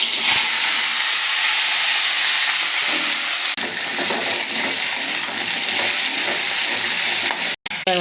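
Vegetables hit hot oil flavoured with cumin in a wok, setting off a loud, steady hiss of frying. A brief shift occurs partway through, then the sizzling resumes and carries on close by until a short dropout near the end.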